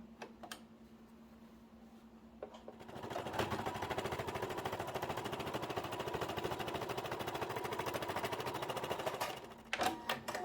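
A sewing machine runs a continuous burst of rapid, even stitching while a seam is sewn on a pochete, preceded by a few quiet clicks and handling noises and ending with sharper clacks as it stops.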